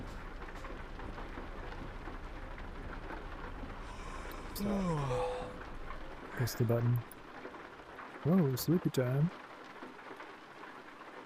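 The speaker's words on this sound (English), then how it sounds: "Hear the thunder, brothers!" Steady rain with rumbling thunder in the Euro Truck Simulator 2 video game, a constant hiss throughout while someone talks excitedly over it.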